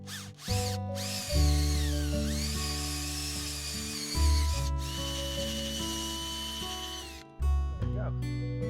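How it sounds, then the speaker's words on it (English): A drill bores slowly into the exhaust port of a vintage Suzuki GT750 two-stroke engine, whining steadily and loudly with slight pitch shifts and brief stops and restarts, close to the microphone. "That has been drilled out, so now we can tap it with this."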